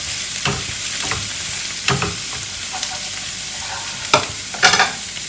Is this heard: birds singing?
no